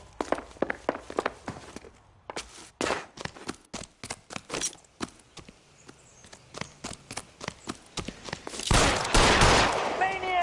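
Gunfire in the video game L.A. Noire: a long series of sharp, separate shots fired at an uneven pace, close and loud. Some louder scuffling noise comes near the end.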